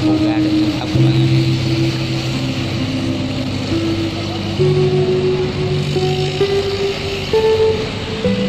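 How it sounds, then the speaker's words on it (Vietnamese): Steady engine drone of a barge crossing strong waves, with a low rumble and sloshing wash throughout, loud and close, some voices faintly mixed in. "con xà lan vượt sóng mạnh"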